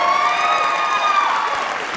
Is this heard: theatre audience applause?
yes